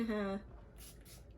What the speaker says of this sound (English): Then setting spray.